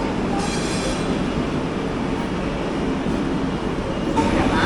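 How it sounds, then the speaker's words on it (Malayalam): Shalimar–Chennai Central Coromandel Express passing through platform number 1 at a station, a loud, steady roar of wagons and wheels on rails that continues throughout, heard at close range. "അതാണ് Shalimar Chennai central Coromandel express. Platform number 1 കയറി പോകുന്നത്."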